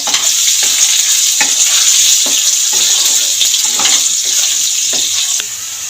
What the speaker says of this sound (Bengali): অল্প করে নুন দিয়ে আলুটাকে ভাজতে থাকবো